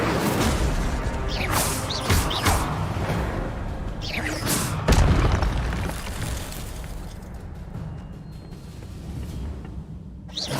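An Incendio fire spell cast in Hogwarts Legacy, whooshing bursts and flaring blasts over a steady rumbling game background, several swells across the clip with one stronger burst near the middle.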